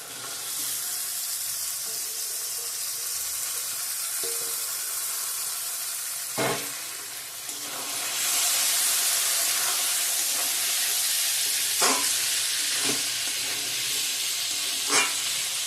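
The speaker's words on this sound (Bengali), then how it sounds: "ভালো করে ভাজা ভাজা করে নেব" Bean seeds fry in hot oil after the spiced base has been cooked down, giving a soft steady sizzle that swells into a louder hiss midway, with a few sharp clinks of a spoon against the pan.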